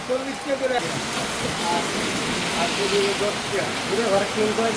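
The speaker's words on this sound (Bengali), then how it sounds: "দেখেন রাস্তার মধ্যে আমাদের বৃষ্টি ধরছে" Steady rain pours down on a road in a continuous hiss, with faint voices and some background noise underneath.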